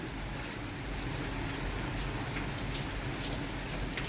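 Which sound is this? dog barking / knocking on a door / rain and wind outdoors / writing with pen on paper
rain and wind outdoors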